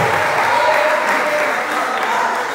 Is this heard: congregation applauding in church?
yes